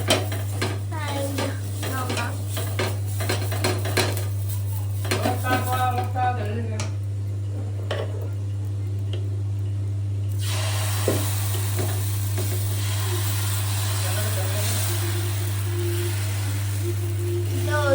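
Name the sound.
frying onions in oil in a pan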